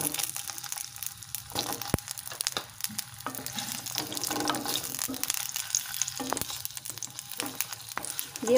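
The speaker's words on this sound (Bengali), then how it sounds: "তো তেলটা আমার গরম হয়ে গেছে, এখন আমি কেটে রাখা পটলগুলো দিয়ে দেব।" Cut pointed gourd fries in hot oil as a continuous sizzle, punctuated by repeated sharp knocks and scrapes of handling the pan, close and unaccompanied by voices.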